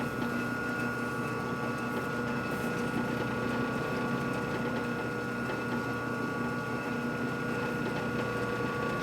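Slow, steady mechanical whirring and clicking from a lathe turning slowly on an old Harley M35 Linkert carburetor rebuild, continuous at moderate level with a faint hum and no clear lock-up moment.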